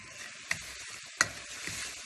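Green beans with bacon and brown sugar cook over low heat in a pan, a soft, steady sizzle broken by two sharp knocks of a utensil against the pan.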